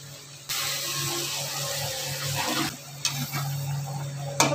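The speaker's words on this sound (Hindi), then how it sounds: "अभी गर्म पानी ऐड कर देंगे।" Hot water is poured into a pan of fish curry, making a steady close rushing splash that starts abruptly and runs for several seconds with a brief break near the end.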